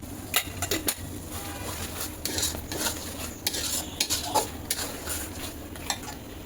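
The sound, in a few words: stirring egg korma masala with sugar in a pan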